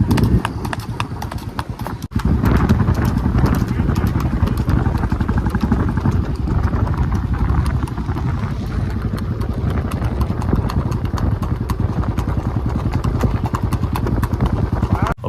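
Three horses walking on a long 30 km ride, their hooves clip-clopping in a dense, steady, continuous rhythm. A low engine-like rumble runs underneath throughout.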